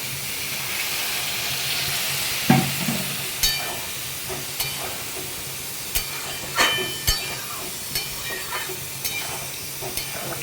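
Green chillies drop into a pea curry frying in a pan, with a soft steady sizzle and hiss under a series of sharp clacks and scrapes from stirring, and no talking.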